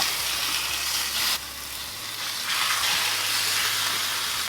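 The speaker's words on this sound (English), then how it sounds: "Just sear my beef shank." Beef shank sears in a hot pan for Polish beef tripe soup, giving a steady, loud, broad sizzling hiss that swells slightly partway through, with no voices.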